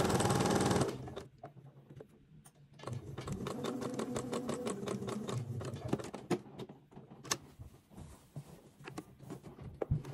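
A sewing machine stitches a batiste children's dress, a quick rhythmic run of needle strokes that pauses and restarts, close and fairly soft.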